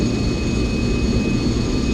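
Concorde jet engines roar on takeoff with a dense, steady low rumble and a thin high whine, loud and continuous, with no voices.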